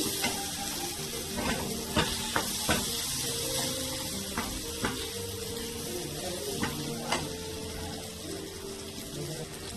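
Pirandai, an adamant creeper, sautés in a pan with a loud, steady sizzle and repeated spatula taps and scrapes that come at irregular intervals close by.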